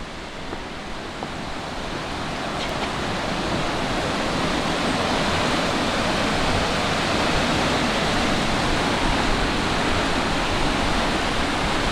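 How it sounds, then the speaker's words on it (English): Waterfalls on the River Ribble near Stainforth roar in a dense, steady rush heard from a bridge, building slightly at the start and then holding loud and unbroken with no voices over it. "look at these waterfalls and the river Ribble"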